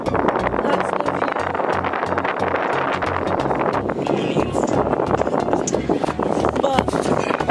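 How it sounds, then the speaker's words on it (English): Strong wind buffets the microphone in a constant loud roar at the top of a cell phone tower, with a voice talking underneath it. "I don't even know if you guys can hear me because it's super windy"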